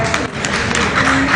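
Audience at a government AI training session claps together, a brief, fairly loud burst of dense applause.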